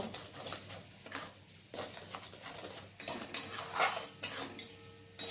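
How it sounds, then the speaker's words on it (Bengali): Spice paste with a little sugar being stirred in a pan while cooking Bengali bata fish curry, a series of scraping, clinking strokes of a spoon against metal, coming in uneven bursts with short pauses, close and moderately loud. "এরপর মশলাটা থেকে যতক্ষণ না তেল ছেড়ে বেরিয়ে না আসছে ততক্ষণ পর্যন্ত নেড়ে যাব।"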